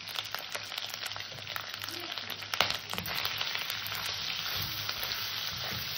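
Green chillies, salt and turmeric sautéing in a pan give a steady, close sizzle with light occasional stirring scrapes, unbroken throughout with no voices.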